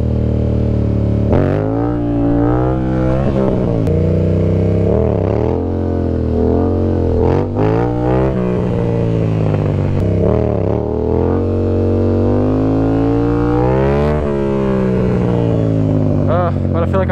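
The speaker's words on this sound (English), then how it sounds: "Doing wheelies like that." A Yamaha MT-07 motorcycle revs up and down repeatedly during wheelie stunt practice, its engine rising and falling close by and loud throughout, with talk over it.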